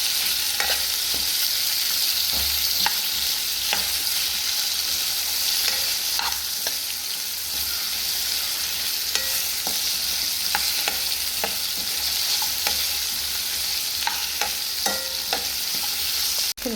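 Mushrooms fry in oil with a steady sizzling hiss throughout, punctuated by occasional light scrapes and taps as they are stirred in the pan, no voices.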